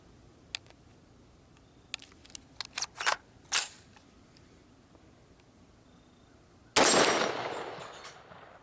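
Rifle shots at a steel dueling tree target around 25 yards away, a series of sharp cracks and metallic clicks spaced irregularly, ending in one louder burst that rings and decays.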